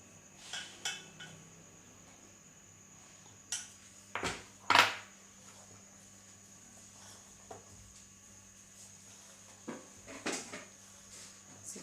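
Wheat flour batter sweetened with jaggery being mixed in a bowl, a few scattered clinks and knocks of a utensil against the bowl, one sharp louder clatter midway, quiet hum in the background.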